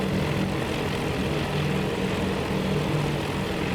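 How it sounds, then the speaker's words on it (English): Torpedo bombers diving toward an enemy fleet in a carrier combat game, a steady loud droning roar of propeller aircraft engines that holds without a break throughout. "What are my torpedo bombers doing? Diving down towards the enemy fleet."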